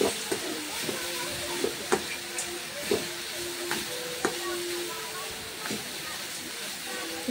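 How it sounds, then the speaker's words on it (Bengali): Green banana and potato with garlic, green chilli, turmeric and chilli powder fry in a pan, a steady close hiss broken by the regular scrape and tap of stirring. "দেখতে পাচ্ছ এখন সবজিগুলো ফ্রাই করছি ভালো করে।"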